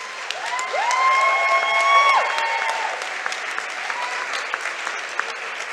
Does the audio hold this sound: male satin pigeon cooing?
no